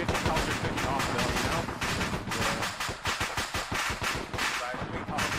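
Heavy .50 cal machine gun fire during a convoy firefight in Arma 3, dense rapid bursts of loud gunfire running almost continuously, with voices talking over the shooting.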